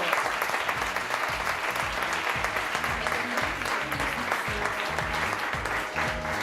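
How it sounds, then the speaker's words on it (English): Steady, dense audience applause at a kids' startup summit event, loud and continuous throughout with no voices standing out. "a big applause for Alba from Colegio Nazaret Oporto."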